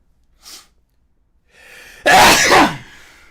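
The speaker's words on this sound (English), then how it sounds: "I got a sneeze coming." A single loud close sneeze from an adult at a whiskey tasting, preceded by a short sharp inhale and a rising breath, then quiet.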